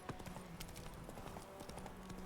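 Horse Roach's hooves clip-clop steadily in The Witcher 3, a quick even rhythm of hoof strikes over game ambience and faint music.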